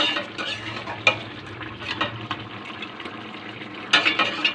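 Fish heads simmer in a pumpkin and potato curry (machher matha chorchori) in a pan, a steady close bubbling sizzle broken by a few sharp spoon scrapes and clinks against the pot, with no talking.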